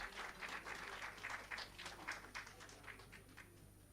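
A welcoming round of applause for a university registrar at a college ceremony, rippling clapping from a modest crowd with uneven bursts, heard at a distance and fairly faint against a steady background hum.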